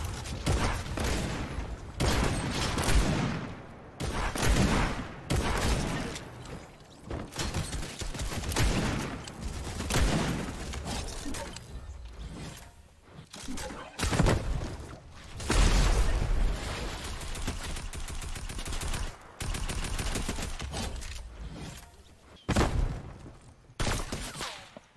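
Fortnite gunfire during a gun game match, dense and nearly continuous volleys of shots with scattered impacts, loud and close throughout, with only brief gaps.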